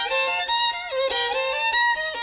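Solo violin plays a passage from Bartók's Sonata for Solo Violin, a 2/8 opening figure within 3/8 time, with clear sustained and sliding notes and several short phrases, close and alone.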